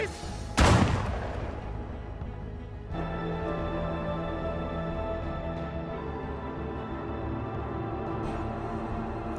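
Gunfire in a mafia action film: one loud, sharp blast near the start, followed by a low, steady rumble of music and ambience that carries on to the end.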